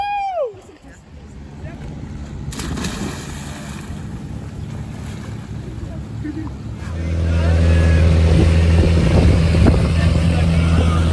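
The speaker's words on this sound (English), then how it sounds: "on long tail boats you can't hear a word you're saying" Loud droning long-tail boat engine in Krabi, Thailand, with a strong low hum that grows louder partway through, mixed with wind and splashing water.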